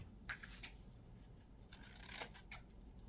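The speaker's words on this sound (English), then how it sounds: "I need my new scissors" Several quick snipping sounds of scissors cutting, close by and fairly quiet, with short crisp bursts spaced irregularly.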